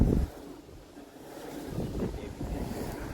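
Strong gusty wind buffets the microphone at a windmill site in Rizal, a low rumbling roar that bursts loudly at the start, eases, then builds again in uneven surges.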